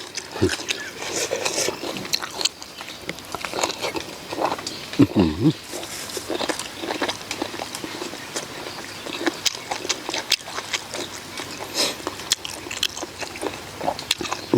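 Crunchy chewing of boiled bitter cow-ear leaves in soup, steady close-up crunches and wet bites running throughout, with some talking mixed in.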